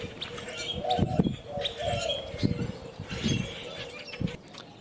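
Small birds chirp and tweet outdoors near an airport plane-spotting spot, short bright calls scattered over steady wind and distant noise, with some low thumps and a voice murmuring now and then.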